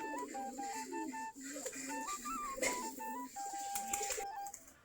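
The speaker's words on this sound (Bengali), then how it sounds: "এই সবগুলো আমাদের দেশি কবুতর।" Native Giribaz pigeons cooing in soft, repeated phrases close by at their coop, with other birds whistling and chirping in the background.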